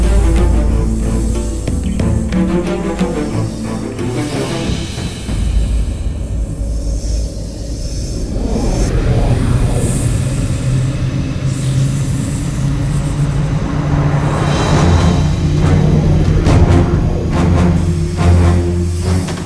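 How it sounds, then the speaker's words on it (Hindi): The Pushpak Vimana, a flying chariot in the Ramayan TV series, is heard as a loud, dense rushing whoosh. The hiss swells and surges continuously under a layered musical score. "पुष्पक विमान"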